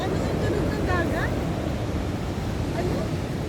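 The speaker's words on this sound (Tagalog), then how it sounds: "Ano yung tunog ng dagat?" Surf surges onto the shore at Patapat in a steady broadband wash, with rough, rolling waves booming close by and a roar of wind across the microphone.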